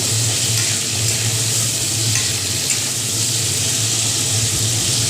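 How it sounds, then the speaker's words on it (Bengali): Steady, loud sizzling of potatoes and pointed gourd frying in a hot pan, continuous throughout with a low hum underneath and no voices. "এবার আমি ভালো করে এই আলু আর পটলগুলোকে ভাজা করে নেব"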